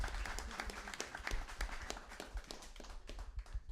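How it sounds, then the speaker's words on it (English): A small audience at an urban speaker-series talk gives a round of applause for the speaker, a busy patter of scattered hand claps of moderate loudness lasting several seconds. "Would you give her a round of applause?"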